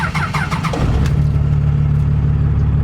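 An old truck fitted with new shocks drives down a road, its engine revving up briefly and then holding a steady, close, rumbling drone with low road noise and no voices.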